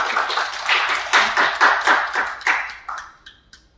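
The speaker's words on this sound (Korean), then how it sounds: "큰 박수로 맞아주시기 바랍니다." Brief, light applause from an audience at a Seoul fire-safety public–private cooperation forum welcoming a company executive; a few seconds of patchy clapping that fades out.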